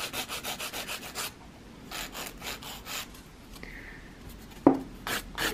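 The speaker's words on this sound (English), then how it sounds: "it's just easier to hold on to that tip while we're filing" An acrylic nail on a plastic tip is filed in quick bursts of close rasping strokes, then pauses briefly before another short run of filing, with a single sharp knock near the end and no talk.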